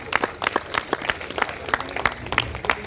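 Audience applause at a Hindi poetry gathering, dense clapping from a seated crowd with sharp individual claps standing out, steady and lively throughout, no talking over it.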